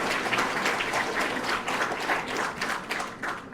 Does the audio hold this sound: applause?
yes